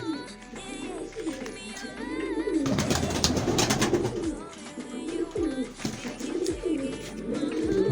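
Soft coos of young pigeons repeat against a busy background of chirps and other noise in winter, with a brief louder broadband burst in the middle.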